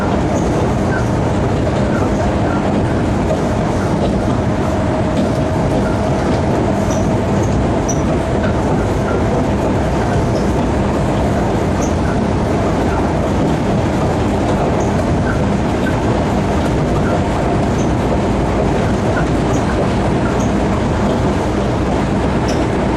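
A passenger train on the Gawler line in Adelaide rumbles steadily along the rails at close range, catching up to a freight train, with continuous rolling noise and faint clicks and squeals throughout, no voices.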